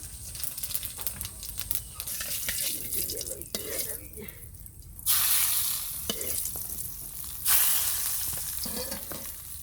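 Chopped cumin seeds sizzling in hot oil in a Bengali home kitchen while a large fish curry is cooked, a soft continuous frying hiss with stirring scrapes and two louder bursts of sizzle partway through.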